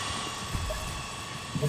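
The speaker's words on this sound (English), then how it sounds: "Deploying drone." A drone launching in a video game gives a steady rotor-like whir that holds at a constant level alongside game sounds and a voice.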